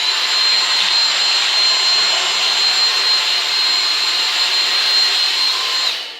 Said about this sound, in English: So let's run the Dyson along.